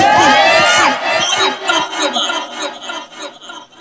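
An audience at a religious talk shouts back a response together, loud and close at first, then tailing off into mixed voices and murmuring.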